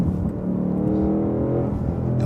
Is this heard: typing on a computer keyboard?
no